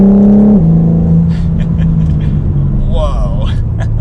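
A 2021 BMW M4 Competition engine pulls smoothly under moderate throttle, a loud low drone that steps down in pitch at a gear change and holds steady, with someone speaking inside the cabin over it.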